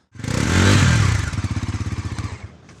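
A Bajaj Pulsar NS400 motorcycle lets out a short, loud exhaust blast, then a rapid burbling pulse that fades over about two seconds, heard up close without talk.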